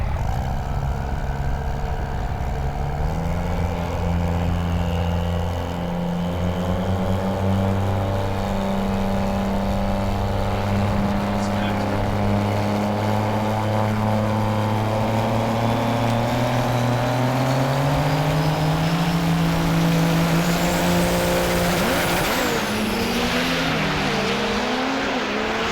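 Diesel drag trucks at the 2017 Texas Diesel Nationals roar down the racetrack, a loud sustained engine drone rising steadily in pitch through gear changes, with a sharp shift near the end and no voices.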